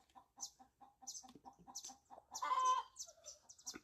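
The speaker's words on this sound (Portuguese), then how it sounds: "a galinha acabou de colocar um ovo." A hen clucking repeatedly in a steady, close rhythm just after laying an egg, rising into a louder, drawn-out squawking cackle midway before settling back to clucks.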